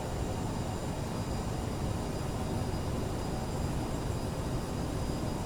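Airbus airliner jet engines in Microsoft Flight Simulator on approach with flaps 20 set, flying from Farnborough to Belfast, give a steady, even broadband roar that holds at a constant level throughout, with no voices.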